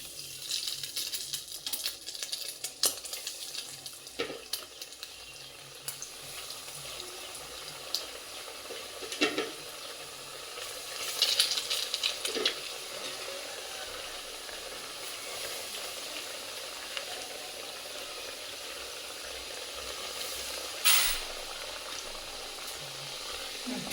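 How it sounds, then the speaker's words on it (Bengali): Chicken vegetable rolls dropped one by one into hot oil in a home kitchen, giving a steady bubbling sizzle with a few louder pops and splashes as each roll goes in, and no talking. "তেলটা আমার তেতে গেছে, এখন আমি এই যে সবগুলো আমি কমপ্লিট করে নিয়েছি। এখন আমি তেলের মধ্যে দিব একটা একটা করে।"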